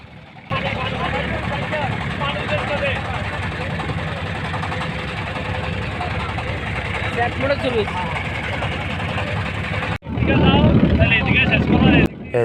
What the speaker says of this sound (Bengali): আর টলারটা ছেড়ে দিছে